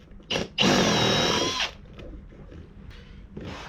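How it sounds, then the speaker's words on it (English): A 10mm drill bit bores into a rubber roof on an MR Triton while Rhino Rack Vortex bars are being fitted: a single loud, close whine lasting about a second, followed by quieter handling noise. "I haven't got a 11mm drill bit like they asked for, so I've got a 10mm"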